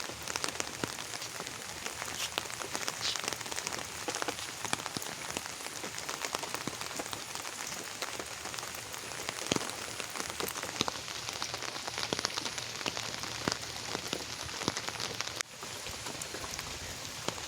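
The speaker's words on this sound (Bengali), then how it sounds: "বৃষ্টি হইতেছে" Steady rain falls on surfaces during a flood in a rural home, a dense, even patter of drops close by that carries on without a break for the whole stretch; no one speaks.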